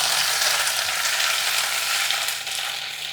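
Ground masala stirred into rice in a hot frying pan: a steady, dense sizzle with continuous scraping and rustling of the spoon, close and fairly loud, no voices.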